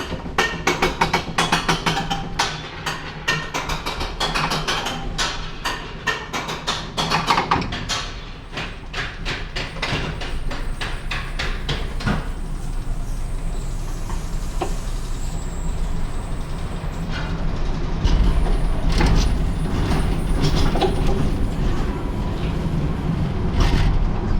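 A rattling bobsled roller coaster train on Ice Mountain Bobsleds at Enchanted Forest rumbles and clatters steadily for a long stretch, with rapid mechanical clicks early on giving way to a constant roaring rush.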